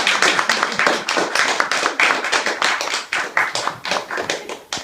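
An audience at a military Distinguished Member of the Regiment ceremony for the Special Forces Regiment claps. The applause is lively and continuous, with many sharp hand claps close together that stay fairly loud before thinning slightly at the end.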